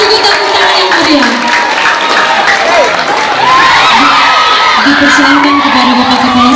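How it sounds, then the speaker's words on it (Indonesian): A school audience claps and cheers at a National Teachers' Day ceremony, steady, dense applause with whoops and shouts filling the room, and voices rising throughout. "Kita beri tepuk tangan yang meriah."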